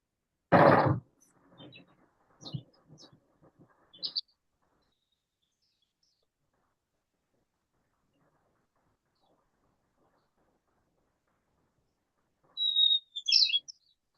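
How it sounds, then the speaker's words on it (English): A loud sharp burst opens, followed by a few faint scattered chirps, then silence and two thin high calls of a white-crowned sparrow near the end. "Let me play the call of the white-crowned sparrow."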